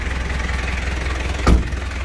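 A 1983 Daihatsu Taft F50 Hunter 4x4 with a diesel engine idles in a steady low rumble, with a brief louder burst midway, close and with no talking.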